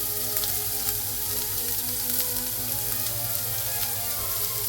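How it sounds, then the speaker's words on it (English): Diced large onion frying in a pan, a steady soft sizzle with faint crackles running continuously at close range, no talk over it. "add some onions, just one onion, large onion that I've diced, and cook the onion until the onion is nice and soft"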